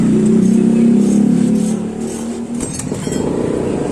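A Yamaha NMAX scooter engine with a faulty cam chain tensioner runs with an abnormal noise: a steady, loud, low idle drone that roughens and wavers slightly toward the end, with no voices.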